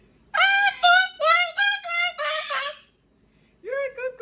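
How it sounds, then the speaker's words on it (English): A pet cockatoo calls indoors with a run of loud, harsh, close squawks in quick succession. After a short silence, two more squawks follow. "Look at that little cockatoo."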